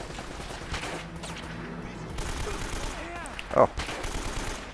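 Gunfire in Uncharted: Drake's Fortune, the PS4 remaster played on Hard, comes as scattered bursts of shots among other game sounds. A man gives a short exclamation.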